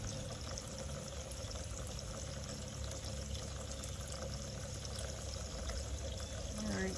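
Water pouring steadily into a tray of broccoli, collard and cilantro seedlings, a continuous close rushing and splashing that stays loud and even throughout.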